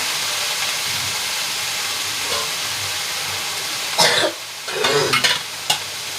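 Green chillies sizzling in a frying pan, a steady close hiss of hot oil that flares into louder bursts of crackle and stirring near the end.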